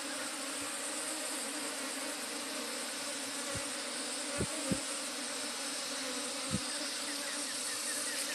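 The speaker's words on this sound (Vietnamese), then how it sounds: "Để chỗ ong nó tụ với anh nhỉ." Swarm of bees droning steadily from a hollow in a tree as they are being caught, a dense, continuous buzz with a few soft knocks and thumps scattered through it.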